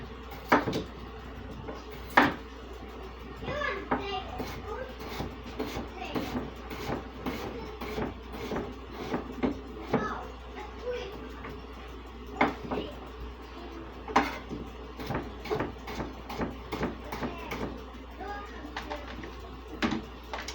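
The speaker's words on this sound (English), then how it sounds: "So I am just going to slice up some potatoes." A knife slices through potatoes on a cutting board in a kitchen, giving a long run of irregular crisp chops and thuds with occasional clatter, close and moderately loud.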